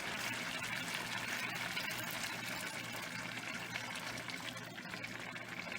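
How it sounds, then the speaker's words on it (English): Bouillon poured into a paella pan makes a continuous, dense watery gush at a steady level for the whole stretch, nearby and without talk. "And then we're going to add some more bouillon."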